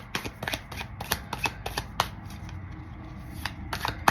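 Tarot cards being shuffled by hand in a quiet room, a series of crisp riffling bursts and soft taps repeating at an irregular pace, close and fairly quiet.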